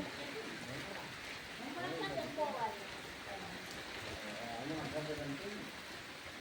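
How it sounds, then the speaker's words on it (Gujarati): A soft, steady hiss of rain falls in the background while people talk quietly nearby. "ફૂલ વરસાદ ચાલે છે"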